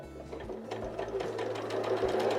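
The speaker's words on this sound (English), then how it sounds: "you're just letting the machine feed it through for you while just holding it slightly upwards" A sewing machine stitches fabric along a curve with a steady, close mechanical whir and rapid needle chatter, running continuously at an even speed with no talk.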